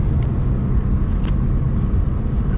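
Ford Mustang EcoBoost accelerating hard during a pull, a loud, steady engine roar with broadband road and wind noise filling the whole stretch, heard from inside the car.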